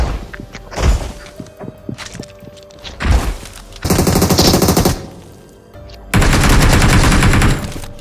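BGMI video game gunfire plays in two loud sustained automatic bursts, with scattered thuds and single shots before them. The bursts are close and nobody talks.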